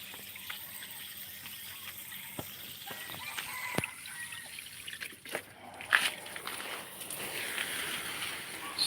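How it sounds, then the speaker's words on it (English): Chickens cluck and squawk outdoors at early dawn, scattered calls at moderate distance over a faint trickle of running water from plant watering. "these chickens are naughty"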